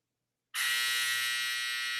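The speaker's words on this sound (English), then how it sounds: "And now the dryer is going off." A clothes dryer sounds its end-of-cycle signal: after half a second of silence, a loud, steady, harsh electronic buzz starts abruptly and holds unbroken for the rest of the clip.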